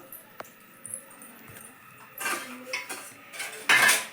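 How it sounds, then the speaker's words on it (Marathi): A child plays with a metal idli steamer vessel, producing scattered clinks and clattering knocks of metal on metal, sparse at first and then busier and louder toward the end, with no talking. "हे बघा आता इडलीच्या भांड्याबरोबर खेळायचं चालू"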